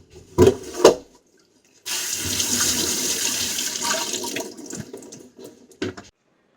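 Tomatoes rinsed under running tap water for a fish curry, a steady splashing flow lasting about four seconds, framed by a few brief clunks and handling sounds before and after.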